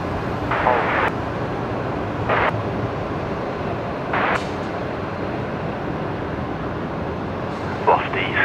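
A Velocity airliner taxis at Brisbane Airport, a steady broad engine roar held throughout at moderate distance, with a few short brighter bursts rising above the continuous rumble.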